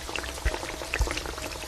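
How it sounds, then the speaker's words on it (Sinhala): Water runs from a bathroom shower whose pipe turned on by itself, a faint steady hiss with a few soft drips and splashes, heard alone. "බාත්රූම් එකේ ෂවර් එක තියෙන කොටසේ පයිපේ ඉබේම කැරකිලා ෂවර් එකෙන් වතුර එන්න පටන් ගත්තා"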